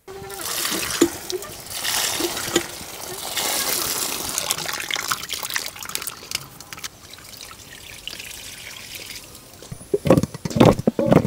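Tomatoes being washed by hand in water, with running trickles, splashes and drips that grow busier and louder toward the end, mixed with a faint voice.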